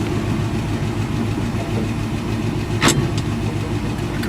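An old, tired truck engine runs steadily with a low rumbling drone and gear noise, a brief sharper mechanical squeal cutting through near the middle.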